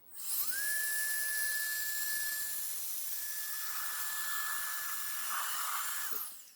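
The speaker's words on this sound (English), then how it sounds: "We are now going to use the little hand washer just to give you a little overview of how good this works." A small hand-held battery washer sprays a bicycle in a steady high whine with a hissing jet, nearby and continuous for about six seconds, then cutting off.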